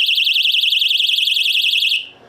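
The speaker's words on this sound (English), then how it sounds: "this little device is a panic alarm" A small handheld personal panic alarm, the kind carried while jogging, shrieks with a loud, piercing warbling tone that wavers rapidly and steadily, then cuts off abruptly near the end.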